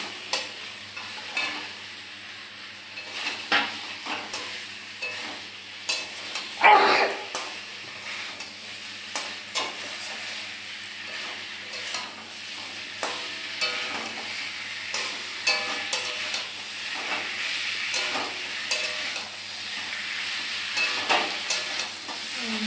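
Stingray fish pieces sizzle and fry in spiced oil masala while being stirred, a steady crackling hiss broken by frequent scraping stirs and occasional clatters of utensil against pan.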